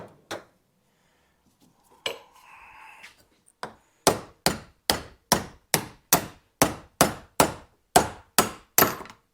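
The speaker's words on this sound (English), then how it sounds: "Now, let's get a real hammer." A hammer strikes metal while removing a coilover on a third-generation Honda Prelude, a steady series of sharp, ringing clanks, about a dozen evenly spaced blows after a few scattered knocks and scraping.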